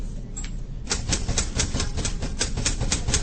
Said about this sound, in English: you almost never hear that sound anymore of typing